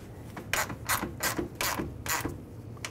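A ratchet tightens a radiator mounting bolt on a 2008-2010 Ford F-250, giving about five quick, evenly spaced clicking strokes, close and crisp, with no talk over them.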